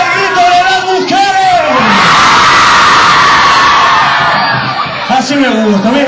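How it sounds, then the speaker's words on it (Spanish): Women in a crowd shout and cheer together in a loud, sustained burst of voices that swells in the middle, with a few single yells standing out at the start and end. "¡El grito de las mujeres!"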